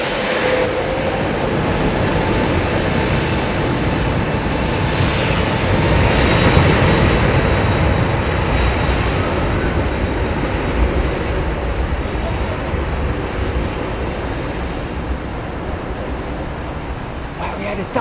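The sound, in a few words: airplane engines during departure at Heathrow Airport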